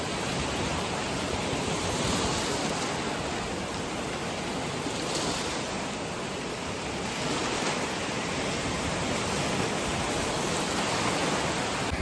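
A river pours across a stretch of beach into the ocean on a coastal wilderness trail, a steady, loud broadband rush of moving water that holds unbroken from start to finish with no voices.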